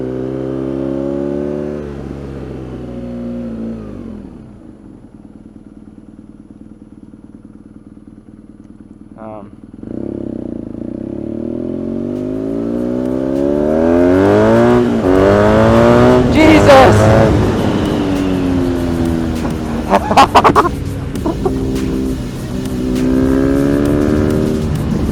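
A BMW R nineT motorcycle engine revs and pulls hard while being ridden, its pitch climbing and falling through several gear changes after a quieter idle-like stretch, loud and close with wind rush.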